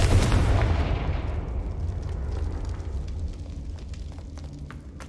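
A Confringo fire spell blasts in Hogwarts Legacy with a loud, deep booming explosion that bursts at the start and then rumbles and crackles as it slowly fades, with no talking.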